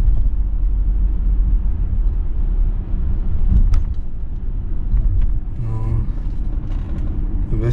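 A BMW E39 525i driven slowly on a test drive after a gearbox oil top-up, giving a steady loud low cabin rumble with occasional creaks and mechanical clicks.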